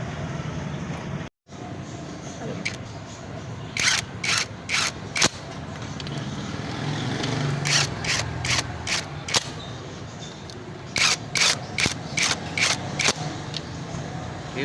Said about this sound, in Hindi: अब मैं इसमें सिर्फ बोल्ट लगाऊंगा